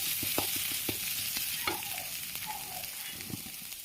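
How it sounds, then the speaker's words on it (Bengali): Ginger garlic paste frying in oil in a pan for Bengali chicken curry, a soft, steady sizzle broken by scraping stirs and light spoon knocks on the pan, close up and fairly quiet, with no talk. "এখন দিয়ে দেবো আদা রসুন পেস্ট। আদা রসুন পেস্টটা একটু ভেজে নিই।"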